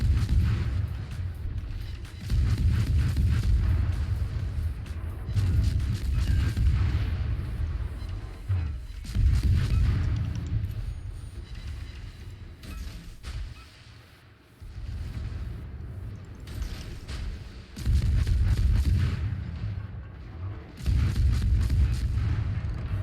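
A Tirpitz warship blowing up and sinking in a naval battle video game, heavy booming blasts and rumbling surges that rise and fall in waves, loud and deep, with no talking over them.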